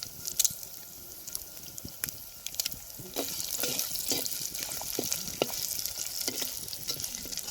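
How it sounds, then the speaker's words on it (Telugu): Curry leaves, coriander and dried red chillies frying in hot oil as a tempering for Andhra-style pappu pulusu, giving a close, fairly quiet sizzle with sharp crackles and pops that grow busier partway through. "పోపు బాగా వేగిపోయింది."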